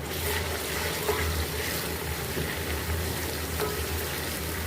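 Garlic, ginger and crushed green chillies frying in a pan, giving a continuous soft sizzle and hiss throughout with faint occasional clinks, steady and moderately close.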